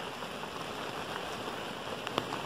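Steady, soft, windless rainfall patters continuously, with a few slightly louder drops landing near the end.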